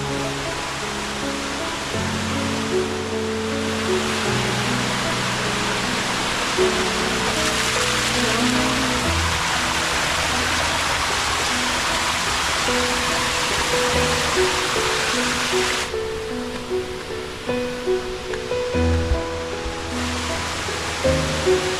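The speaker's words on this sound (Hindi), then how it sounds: "आइए झरना को देखते हैं और आगे बढ़ते हैं।" The KGR waterfall in Malkangiri, Odisha, gives a constant loud rushing roar, with a soft tune playing underneath throughout.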